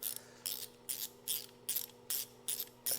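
Ratchet wrench snugging 8mm bolts on a 1982 Honda CB900F during reassembly, with eight rhythmic bursts of quick pawl clicks at an even pace, close and fairly loud over a steady low hum.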